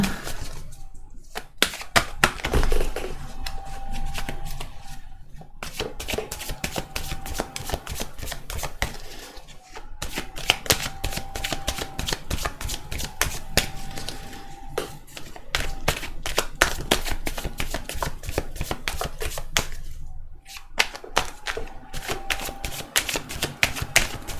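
Tarot cards drawn from a deck and laid down during a reading: a series of crisp papery taps, slides and shuffling clicks, close and fairly quiet, broken by brief pauses, no talk.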